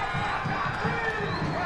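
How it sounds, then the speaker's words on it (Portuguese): Football fans in a stadium roar after a goal in a Pernambuco state championship match between Central and Afogados, a dense sustained crowd cheer heard at a distance. "Faz a festa, torcida da Patativa!"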